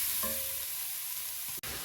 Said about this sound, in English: our Trinity mix with the Pope has been simmering in our roux noir for about 5 minutes, 6 minutes